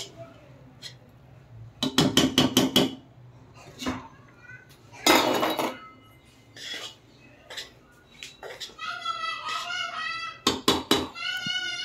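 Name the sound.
stirring potato biryani in a pot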